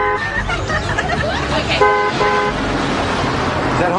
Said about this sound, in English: Is that honking for you, Miss Lindstrom?